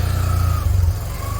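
A motorcycle engine with a deep low rumble pulls away as the rider sets off. It revs up briefly and then settles back, loud and close, with no talking.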